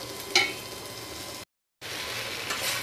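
Jackfruit seeds and wax gourd leaves fry in hot oil, a steady close sizzle with a brief clink of a utensil, broken by a short silent gap before the frying resumes.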